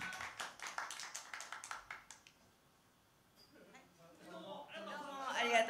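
A small group at a no-audience live-streamed show claps for a staff member, a brief run of sharp, close claps that fades into quiet before people start talking.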